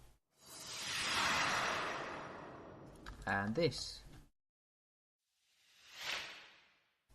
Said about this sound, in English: Very, very basic and subtle sweeping sounds created from just noise,